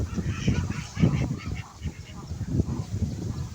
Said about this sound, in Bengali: দেখো হাঁসগুলো চান করছে